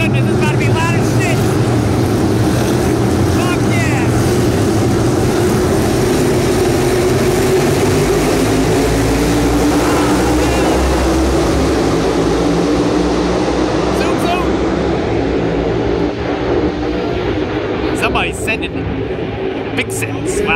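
NASCAR stock cars roaring past at speed at the Brickyard in Indianapolis, a loud continuous engine drone with a rising pitch as cars approach, heard from trackside amid crowd noise.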